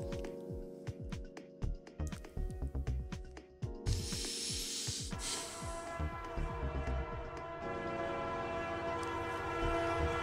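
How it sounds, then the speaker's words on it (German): Trains rolling past a railroad crossing in a video game: rapid clacking wheel beats, then loud sustained horn blasts and a hissing burst, continuing as a humming drone. "wenn die zwei Züge vorbei sind und aus der anderen Richtung auf welche kommen"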